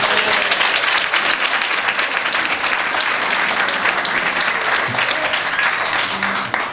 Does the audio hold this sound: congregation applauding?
yes